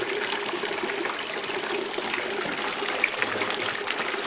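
Water runs steadily at full flow through a gold dredge concentrate sluice, carrying sediment over the riffles in a continuous, close hiss and trickle with no voices.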